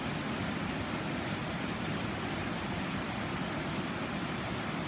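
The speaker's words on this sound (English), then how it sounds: "I'm going to leave you with just this amazing sound of the water" Reekie Linn waterfall in Angus, Scotland, gives a steady, full roar of falling water, broadband and unbroken, with no voices over it.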